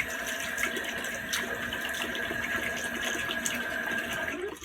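Tap water runs steadily into a sink while a shaving brush knot is rinsed with fresh water, a continuous close splashing hiss with no talk.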